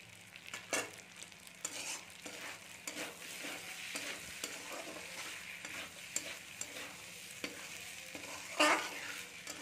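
Prawn pasta with coriander fries in a pan, a steady close sizzle broken by repeated scraping stirs and a few clinks of the utensil, with no voices.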